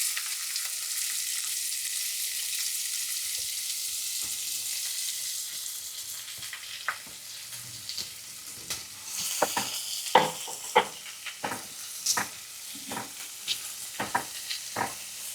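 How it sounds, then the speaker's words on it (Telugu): Onions and curry leaves fry in oil for a jackfruit seed curry, making a steady hissing sizzle that later gives way to a run of sharp spoon taps and scrapes against the pan, close and unaccompanied by speech. "కొంచెం లైట్ బ్రౌన్ కలర్ వచ్చేంత వరకు ఫ్రై చేద్దాం."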